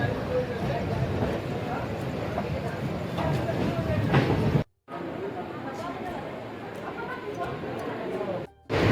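A passenger train running out of Rampurhat station on the way toward Deoghar, its steady broadband rumble and rattle continuous and loud, with brief cuts; a voice talks over parts of it.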